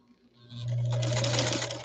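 A 1949 German-made New Home Greyhound Model K sewing machine starts up and runs with a steady, close mechanical hum and whir, loud and continuous for more than a second after a short quiet start.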